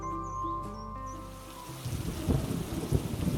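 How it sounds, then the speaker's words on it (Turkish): Rain begins falling midway, a dense patter of drops building from quiet into a steady, close wash of noise with no voices. "yağmur"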